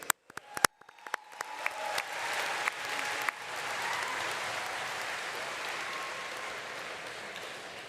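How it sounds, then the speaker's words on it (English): Scattered claps start a steady round of audience applause at a university engineering graduate commencement, holding moderately loud and even through the rest of the stretch. "Please also give a round of applause for our valiant readers"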